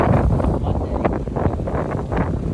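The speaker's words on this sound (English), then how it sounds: "It is really windy and freezing." Strong, freezing wind buffets the microphone at a flood-damaged house rebuild near a dock, a loud, continuous roaring rumble with gusty surges and no clear speech.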